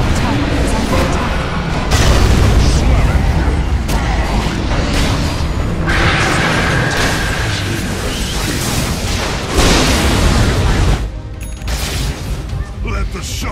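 Dota 2 match as a tower falls: heavy booms and rumbling blasts layered with rapid ability and attack effects, dense and loud throughout, with in-game announcer voice lines.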